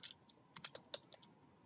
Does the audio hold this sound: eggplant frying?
no